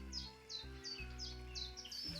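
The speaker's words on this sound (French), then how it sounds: "Et les petits oiseaux là qui arrêtent pas depuis tout à l'heure là." Small birds chirp outdoors in a repeated quick series of high, bright tweets, fairly faint and steady over a low hum of background noise, with no talking.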